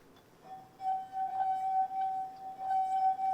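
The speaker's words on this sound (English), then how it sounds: "when you play it with the wet finger around the rim" A wet finger circles the rim of a wine glass, drawing out a steady singing tone that swells slightly with each pass of the finger, close and clear over faint background noise.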